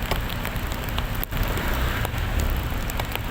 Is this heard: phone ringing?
no